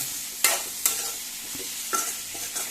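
Tomatoes frying in oil in a pan for a Goan bitter gourd bhaji, a soft continuous sizzle broken by several sharp scraping stirs of a spoon against the pan, close by with no talk.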